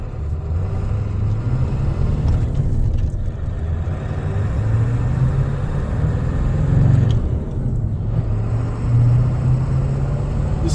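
A 1996 Ford F250 pickup with a 7.3 Power Stroke diesel drives along, its engine making a steady, loud low rumble that swells slightly as it pulls, with road noise throughout and no talking.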